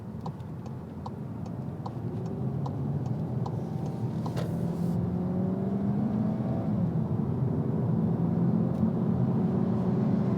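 A SEAT Leon Cupra estate car builds speed from inside the cabin, engine note climbing through gears as a steady road roar swells, with a faint regular ticking early on.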